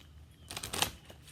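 A brief, soft riffle of tarot cards being shuffled once, close and quiet.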